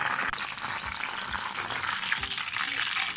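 Bitter gourd pieces sizzle steadily in hot oil in a pan, a dense, close crackling hiss with soft stirring bumps underneath, no talk over it.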